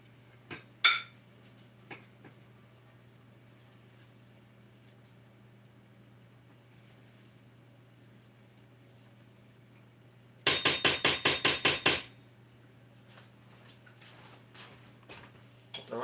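Kitchen utensils clatter while someone fetches a rice spoon from among dishes: scattered faint clicks and knocks, then a loud, rapid burst of metallic rattling near the middle before sparse taps resume.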